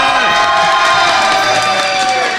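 A crowd applauds and cheers loudly at a live French podcast duel event, a dense, sustained wall of clapping and shouts with no pauses.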